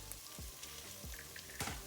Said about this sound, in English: we're going to just let this saute for about 1 minute because we don't want the garlic to burn